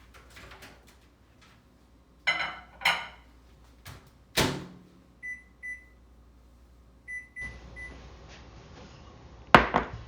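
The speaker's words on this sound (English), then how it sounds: "let's melt the butter in the microwave." Scattered kitchen sounds: a door closes, several short beeps, then a microwave oven hums steadily while melting butter before a final clatter.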